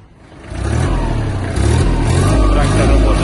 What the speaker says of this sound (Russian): Трактор работает мягенько